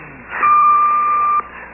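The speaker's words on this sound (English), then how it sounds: "Please leave your message after the beep." A single steady electronic beep from a home answering machine, sounding for about a second right after the outgoing greeting ends, clear and fairly close with no voices over it.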